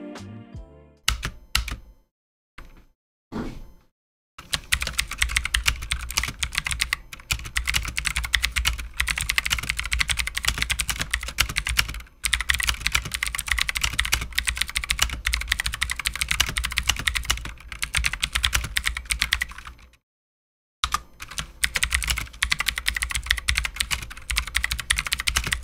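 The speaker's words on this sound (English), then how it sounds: "I'm gonna give you guys like 10 seconds of the typing test" Someone types a test on a cheap mechanical RGB keyboard, making a rapid, continuous stream of loud clacking keystrokes after a few scattered taps, with brief pauses in between.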